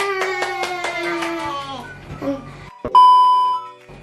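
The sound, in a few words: clapping after successful balloon experiment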